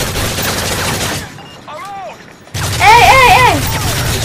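Rapid gunfire from the Modern Warfare 3 video game in split-screen Survival mode, loud bursts rattling through most of the clip with a brief quieter gap and chirping effects, while a player's voice talks over it.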